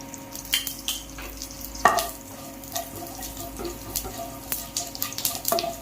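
Whole spices, fennel seeds, a stick of cinnamon, two cloves and two cardamom pods, frying in hot oil for an egg curry, with a steady soft sizzle and scattered small crackles and stirring clinks throughout, no talking.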